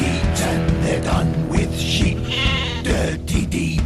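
Sheep bleat repeatedly in wavering cries, loud and close, mixed with background music.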